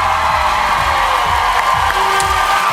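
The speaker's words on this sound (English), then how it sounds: "Stop your booing, start your cheering." A dense, steady roar of a live studio audience cheering and whooping at an X Factor live show, loud and continuous throughout.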